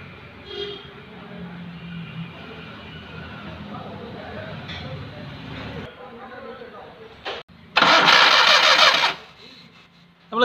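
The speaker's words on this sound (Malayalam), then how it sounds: "വണ്ടി ഒന്ന് ക്രാങ്ക് ചെയ്തേ" A Maruti 800 that will not start, suspected of a broken timing belt, cranking over with a steady whirring spin that never catches, people talking over it, then a short loud burst near the end.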